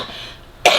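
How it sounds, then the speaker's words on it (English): A single loud cough bursts out suddenly near the end, close and sharp after a quiet stretch of room noise, from someone with allergies in a home makeup setting. "Coughing."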